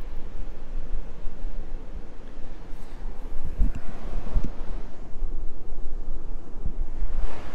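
Surf rolling onto a wet sand beach with wind buffeting the microphone, a loud, continuous roar with a few low thumps and no talk.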